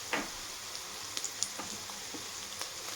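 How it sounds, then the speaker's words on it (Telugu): Ginger garlic paste frying with onions in a pan, a soft steady sizzle with scattered small crackles and pops, close and fairly quiet, no talking. "ఇది పచ్చివాసన పోయేంత వరకు వేయించుకోవాలి."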